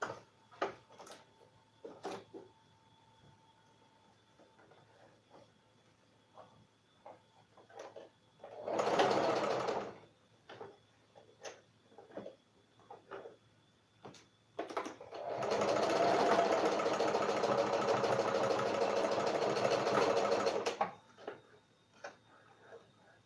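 Sewing machine stitching tote bag fabric: two runs of steady rapid whirring, a short burst followed by a longer stretch of about six seconds, close and clear, with quiet ticks and handling noises in between.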